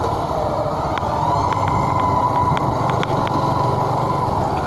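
Zontes 155U motorcycle engine with a steady, loud droning hum while riding into a corner, held at a constant pitch with light wind noise around it.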